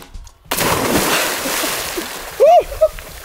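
A person jumps into cold Atlantic Ocean water in Canada's Chic-Choc region, a broad sustained splash and churning slosh lasting a few seconds, followed by a loud whooping shout and a brief second yell.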